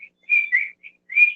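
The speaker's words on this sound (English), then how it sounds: "The chicks is chirping." Baby chicks chirping in short, high, clear peeps, about four brief calls with gaps between them, close and alone with no talk.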